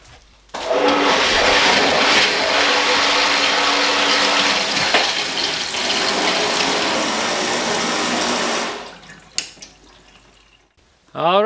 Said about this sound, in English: we finally have running water in the house